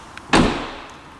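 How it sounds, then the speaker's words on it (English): Rear door of a Kia Niro swung shut at a steady pace, landing as one solid, close thud with a short ringing decay and a faint tap just before it. "And so the way you close the doors, you gently pull it down, not too fast, not too slow."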